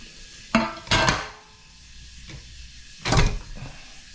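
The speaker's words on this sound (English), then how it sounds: "we're now going to just shake it up and take it out of the pan" A freshly baked sponge cake is shaken out of its metal baking pan, making three knocking bumps against the tin, two close together and one a couple of seconds later, with quiet pauses between them.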